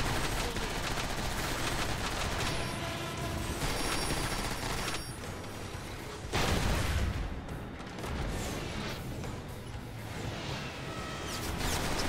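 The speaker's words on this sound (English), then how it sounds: "why are there so many mortars?" Mortar fire and explosions in the video game Transformers: War for Cybertron, a dense, continuous barrage of loud blasts and gunfire with a heavier boom partway through, no talk.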